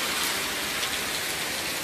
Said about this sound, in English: it's raining hard, and it's starting to flood